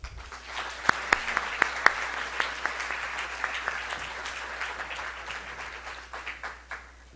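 A conference audience applauds to welcome keynote speaker Trina Gordon, a steady wash of many hands clapping with a few sharp nearby claps, sustained throughout and tapering slightly toward the end.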